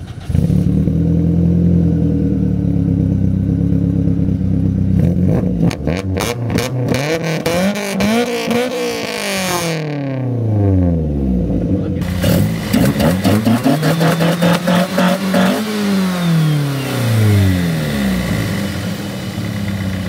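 A Toyota Corolla's 4A-GE engine idles, then revs up and down repeatedly in loud rising and falling sweeps, close to the microphone.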